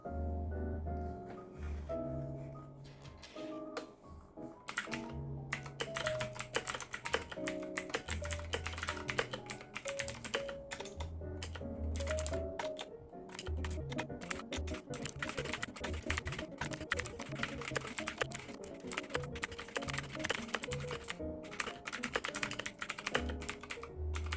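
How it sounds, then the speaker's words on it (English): Rapid, continuous typing on a Machenike K600 mechanical keyboard with blue switches during a typing speed test, dense clicking keystrokes, close and fairly quiet, with brief pauses and a low hum in the background. "I'm gonna start typing now."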